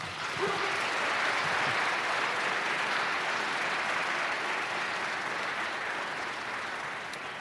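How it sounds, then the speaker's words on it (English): Audience applause for a speaker after opening remarks at a naval academy event, a dense, even roar of clapping that holds steady throughout, moderately distant and full, without voices on top. "Could we please have one more round of applause for our speaker?"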